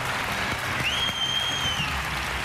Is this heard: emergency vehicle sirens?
no